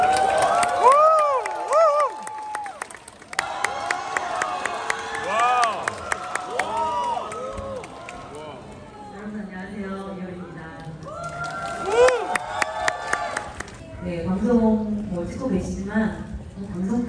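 A wedding audience at a celebrity ceremony claps and cheers in bursts, moderately loud and somewhat distant, mixed under constant talk and announcements from a host.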